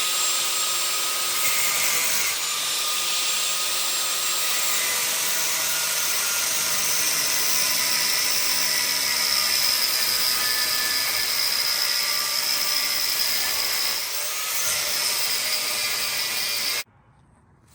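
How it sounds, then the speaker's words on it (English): Angle grinder cutting a straight line through a car's wheel stud and lug nut, a loud, continuous high-pitched grinding whine that holds steady for about seventeen seconds before cutting off abruptly. "I'll be using an angle grinder to cut a straight line through the stud and the lug nut"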